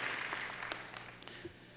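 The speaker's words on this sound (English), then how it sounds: "A round of applause for Kieran Davis." An audience at a university opening convocation gives faint, brief clapping. The applause thins out over under two seconds, with a few sharper claps near the start.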